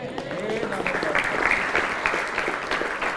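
An audience at an Islamic lecture bursts into dense, steady applause that fills the room, with voices mixed into the crowd noise throughout.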